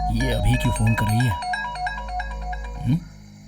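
A mobile phone ringtone in a Hindi-dubbed film plays as a repeating melodic electronic pattern right after someone speaks, with a brief voice returning near the end.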